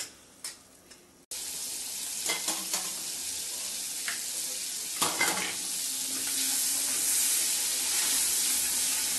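Fried chili thecha sautéing in a pan for Khandeshi eggplant bharit. A steady, loud sizzle runs almost the whole time, with scraping stirs and a few utensil knocks, and no talking.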